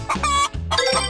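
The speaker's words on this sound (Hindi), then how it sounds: "मुर्गी।" A hen clucks loudly and close, a few throaty stuttering calls in quick succession with no talking.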